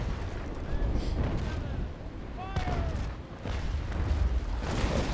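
Ship cannon fire from 6-pounder long guns in the naval game Naval Action Legends, a rolling barrage of heavy booms and rumble filling the whole stretch, loud and continuous.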